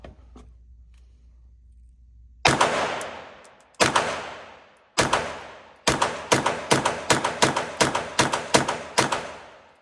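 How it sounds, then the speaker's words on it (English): Gunshots from a .45 ACP firearm at a shooting range, starting with a few spaced single shots, then a rapid string of loud, close reports, each followed by a short decaying echo. "But shoot some rounds. Let's shoot some rounds."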